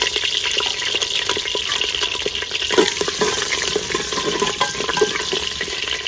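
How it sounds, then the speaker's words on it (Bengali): Whole potatoes fry steadily in hot oil, a continuous close, loud sizzle with bubbling crackle and occasional stirring scrapes throughout. "তেল গরম হয়ে গেছে আমি আলু ভেজে নেবো এই গোটা গোটা আলুগুলো ভেজে নেবো"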